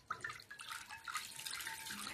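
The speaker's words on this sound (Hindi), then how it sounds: "ये गर्म पानी में एक कढ़ाई में डाल दूंगी।" Half a bowl of lukewarm water is poured into a kadhai (wok) over a low gas flame, a soft continuous splashing and trickling pour, faint and close, with no voices.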